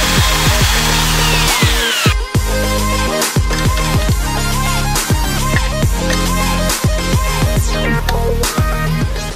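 A power drill bores into the intake piping on a turbo Mazda Miata, with loud, close whining and grinding that stops and restarts several times and no talking.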